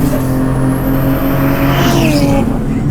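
Porsche Cayman fitted with a 911 Turbo S engine, a loud, sustained engine drone with strong low harmonics running steadily throughout, pitch shifting slightly near the end as revs change.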